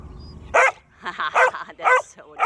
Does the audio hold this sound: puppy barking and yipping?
yes